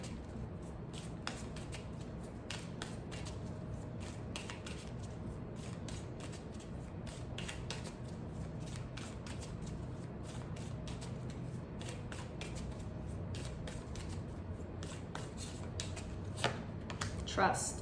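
Oracle cards are shuffled in a continuous soft riffling and flicking, with quick papery taps running throughout at a close, quiet level.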